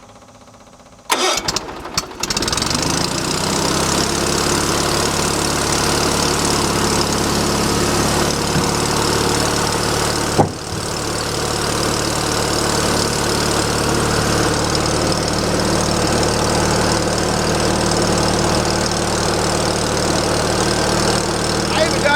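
A small choke-started engine at a wood splitting site sputters to life after about a second, then settles into a steady, loud running drone with one brief dip midway.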